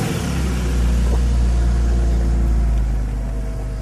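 A small race car engine revs loudly up close, a continuous deep rumble that swells and holds steady for a few seconds with no talking over it.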